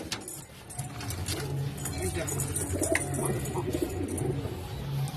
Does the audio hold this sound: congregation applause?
no